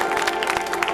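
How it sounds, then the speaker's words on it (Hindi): An audience at a Shrimad Bhagavat Katha religious storytelling gathering claps loudly with dense, continuous applause from a crowd. "एक बार जोरदार और ताली बजा दो तीनों के लिए"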